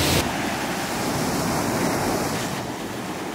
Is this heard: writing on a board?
no